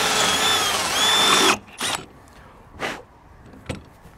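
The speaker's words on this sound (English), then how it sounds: "then I can fully drill through" A power drill bores through an RV door with a loud, whining high-pitched spin for about a second and a half, then stops, followed by a few short bursts of drilling.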